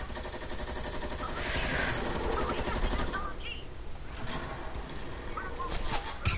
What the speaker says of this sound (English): No, I'm shooting at them.